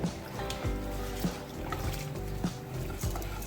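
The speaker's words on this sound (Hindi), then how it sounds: "पानी बॉईल कर लिया हुआ है। अब मैं इसमें चावल ऐड करूंगी।" Rice being poured into a pot of boiling water, with soft watery sloshes and bubbling at close range, plus a few dull knocks and stirring sounds over a steady low rumble.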